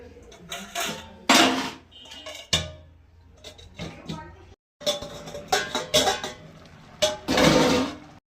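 Metal clatters in a home kitchen as a lid goes onto a cooking pot of simmering vegetable greens, giving several sharp clanks and scrapes with short pauses between them, close and fairly loud.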